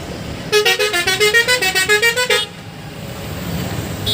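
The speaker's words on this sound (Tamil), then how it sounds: "செம்ம டிராஃபிக்." A vehicle horn blares in a rapid rhythmic string of about a dozen musical toots in heavy street traffic, loud and close, followed by the low rumble of passing vehicles, with no talking.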